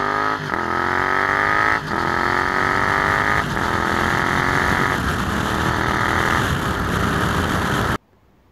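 A Yamaha XSR 700 motorcycle engine drones steadily and close by, pulling up through several gears with short dips at each shift, and no voices.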